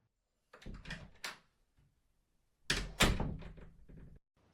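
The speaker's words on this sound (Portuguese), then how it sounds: "Ela fechou a porta silenciosamente" A door is handled with a few soft thunks and shuffling movements in two short bursts, heard close and alone in an otherwise quiet room.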